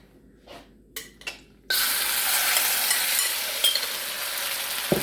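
Spareribs dropped into hot oil in a wok for black bean sauce, a few soft clinks and rustles followed by a sudden loud, sustained sizzle of frying that continues steadily with occasional pops.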